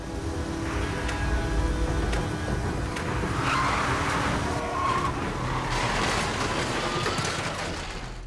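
A motorcycle crash sound effect: a loud, continuous roar of skidding tires and scraping with rumbling vehicle noise, swelling and fading over several seconds with no speech.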